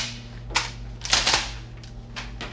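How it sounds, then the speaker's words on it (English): Sharp bursts of heavy machine-gun fire from the smart gun in the 1986 film Aliens, several short cracking volleys spaced apart over a steady low hum. "The smart gun is a heavy machine gun that can be carried and fired by a human operator."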